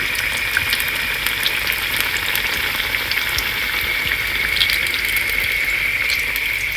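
Radish masala vadas deep-frying in hot oil over a low flame, giving a steady, close, even sizzle and bubbling hiss that runs without a break.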